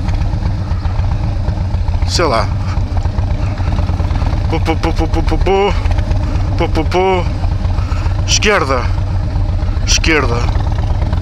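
Motorcycle engine drones loud and steady while riding near Cortegaça beach, a constant low rumble with wind buffeting, as someone talks over it and a few rising whistle-like tones sweep past.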